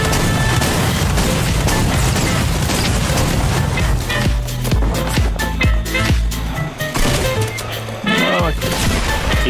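Loud, dense rocket blasts and booming explosions in the video game Fortnite, packed together almost without a break across the whole stretch, with game effects layered underneath.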